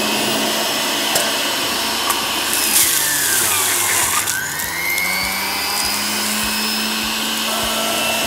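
Electric juicer grinding onion into juice, a loud continuous high whine and motor drone with shifting pitch as the onion is forced through, steady for several seconds with no talk.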